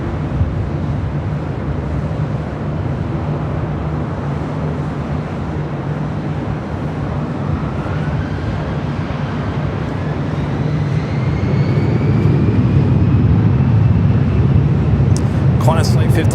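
An airliner takes off from runway 24 left at LAX, a steady broad jet roar that swells louder toward the end, with faint tonal whines rising over a continuous rumble.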